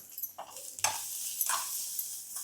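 Grated coconut is sautéed briefly in a pan for a Coimbatore-style mushroom kuzhambu, with soft scraping stirs and a faint, quiet sizzle in short bursts.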